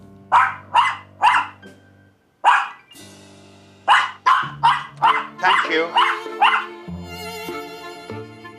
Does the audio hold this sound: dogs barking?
yes